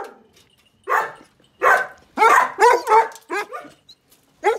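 Several dogs bark in short loud bursts close by, about eight barks with brief gaps between them, with no talk over them.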